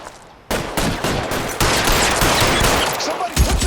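Heavy gunfire in the L.A. Noire video game during a shootout while hunting a suspect, with dense rapid shots and bursts overlapping continuously and loudly, nearby, with no clear talk.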